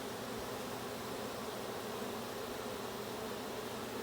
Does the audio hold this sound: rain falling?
no